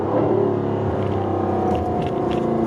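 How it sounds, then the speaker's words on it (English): A 2020 Jaguar F-Type R engine accelerates from first gear, a loud throaty growl building steadily for a few seconds, heard close. "acceleration from first gear"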